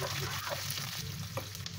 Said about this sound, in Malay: Goreng hingga layu lah.